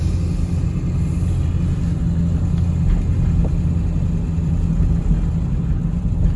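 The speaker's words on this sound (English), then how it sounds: "here's a slow roll into a hard acceleration." A Ford Excursion 4x4 with a 7.3 diesel and single shot injectors rolls slowly then accelerates hard, a steady deep engine rumble filling the cab without speech.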